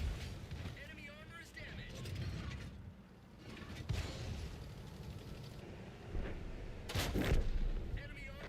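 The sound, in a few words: rockets firing from a tank in World of Tanks video game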